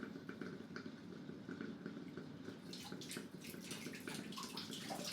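Warm cooling water flows out of the condenser of a home distilling still, a steady quiet running splash like a tap filling a tub, continuous and close, with faint dripping texture and no talking.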